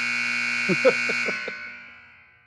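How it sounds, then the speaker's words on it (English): An electronic buzzer sounds in a quick series of about five short raspy pulses over a steady hum, then the tone fades away. "I'm turning my buzzer off."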